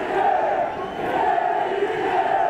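A crowd of bandy fans in a nearly full outdoor stadium on a frosty day roars and cheers continuously, a dense sustained wash of many voices at steady loudness.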